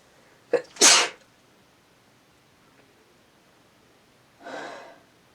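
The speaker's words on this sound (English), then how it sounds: "I'm going to sneeze." A sharp sneeze with a quick intake just before it, then quiet, and a softer breathy sniff or snort a few seconds later.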